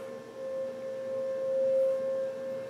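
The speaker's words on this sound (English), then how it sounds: "so you guys can enjoy tornado sirens from Dallas," Tornado sirens in Dallas, Texas hold a steady, even wail at one pitch, distant and moderately faint, with a gently swelling level and no voices.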